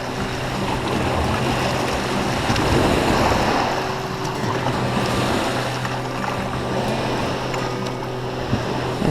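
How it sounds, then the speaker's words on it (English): Waves slap and wash against a solar barrel boat camper out on the water, a loud, steady surging rush mixed with buffeting wind noise on the microphone. "Almost had waves come over the back."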